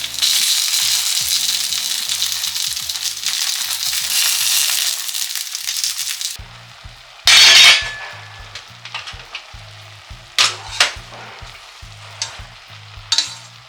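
Tofu fries in an overcrowded pan, crackling loudly and steadily for several seconds, then dropping to quieter sputters broken by sharp bursts of sizzle and scraping clinks, with no voices.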